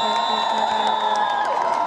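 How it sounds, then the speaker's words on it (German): Crowd cheering and whooping at a global climate strike rally in Berlin, a loud burst of shouts and high voices carrying over a reverberant outdoor space, with little distinct clapping. "Nochmal einen fetteren Applaus!"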